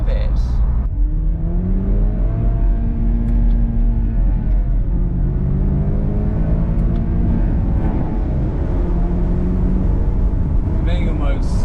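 A Chevrolet Camaro with its automatic gearbox in manual mode, the engine revving up through gears with rising and falling drone and a deep rumble, heard from the cabin while someone talks over it.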